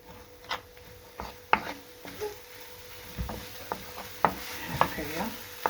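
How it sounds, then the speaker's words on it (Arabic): Half-boiled rice being stirred into a fish mixture in a pan, a spoon scraping and knocking with scattered sharp taps over a faint sizzle, close and without talk. "ودابا غادي نزيدو عليهم هذا الروز هذا اللي سالقينو نص سلقه، ونحركو مزيان حتى يتخلط معاه العناصر كلهم يتخلطوا معاه."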